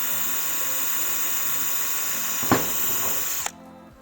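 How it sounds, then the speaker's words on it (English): A drill running steadily as it bores through a Lexan polycarbonate window panel, a continuous whine with a sharp crack near the end as the bit breaks through, then the motor stops. "And then I'm able to drill through"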